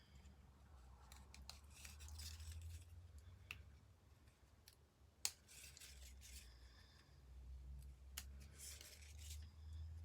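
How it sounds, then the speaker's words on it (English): Micro tip scissors trim around the edge of paper for a scrapbook page, making faint, close snips and soft rubbing sounds scattered over quiet, steady background noise, with no voices. "get your micro tip scissors and then going around and trimming up the bottom"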